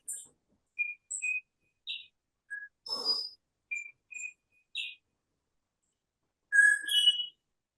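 Green rosella parrots on Bruny Island giving a series of short, clear whistled notes with pauses between them, plus a brief harsher rasp midway and a louder warbled phrase near the end, in quiet surroundings.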